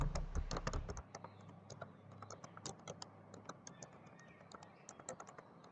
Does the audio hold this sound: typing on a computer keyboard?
yes